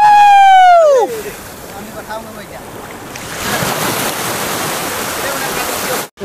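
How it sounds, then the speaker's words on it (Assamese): Sea waves at a beach give a steady, broad wash of surf that swells in from about halfway through and continues to the end, after a brief sweeping tone at the start. "ঐ পানী দেখে একদম কেনেকুৱা পানী আহিছে একদম সাগৰত।"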